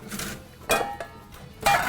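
Dishes and utensils clatter as food is served onto a plate while Turkish katıklı dolma is prepared, with a few separate clinks and scrapes standing out against a steady, low kitchen background.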